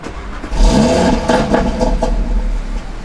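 An Audi RS3 engine cranks and catches close by, settling into a loud, throaty idle with a slight rev, and no one speaks.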